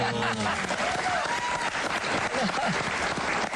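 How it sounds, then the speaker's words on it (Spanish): Studio audience applause during an interview with a fan of Ricardo Arjona, a loud, dense burst of many clapping hands with cheering and voices mixed in throughout. "Un aplauso."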